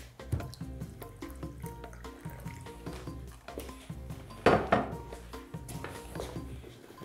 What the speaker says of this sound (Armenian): Վրան լցնում ենք պարտադիր սառը ջուր, որ գնդեր չառաջանա։